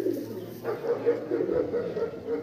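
Pigeons in a loft coo in a steady run of soft, repeated low calls, close by, with no talk over them.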